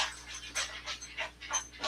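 A dog pants in quick, rhythmic breathy bursts, about five or six audible huffs, close and fairly soft, with no voices over it.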